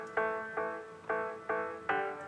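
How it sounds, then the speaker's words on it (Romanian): A synth phrase processed through the radio-sound preset of FL Studio's Fruity Parametric EQ 2: five steady, evenly paced notes with a boxy, mid-heavy broadcast tone, played alone. "sau sunetul de radio."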